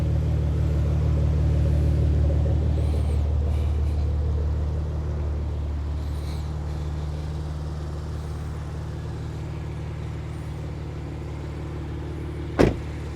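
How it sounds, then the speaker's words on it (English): A deep, steady exhaust rumble from a nearby idling 2017 Porsche Macan GTS with a six-cylinder twin-turbo engine, easing slightly softer midway, with a sharp click near the end. "A beautiful Porsche exhaust."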